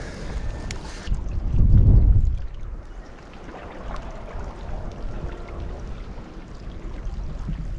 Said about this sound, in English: That wind's picked up a little.